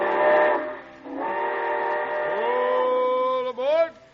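A steam train whistle sound effect for a radio show blows a loud, sustained multi-tone chord for about four seconds, with a brief dip partway through and a rising, wavering pitch bend at the end.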